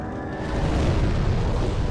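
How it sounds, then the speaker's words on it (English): Deep, continuous explosive roaring from the Flamelurker boss fight in the original Demon's Souls, a loud dense rumble of fiery blasts that swells slightly and holds without pause. "trying to get used to timing your roll through the explosions"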